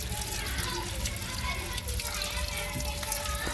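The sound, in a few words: running water rinsing mushroom growing material clean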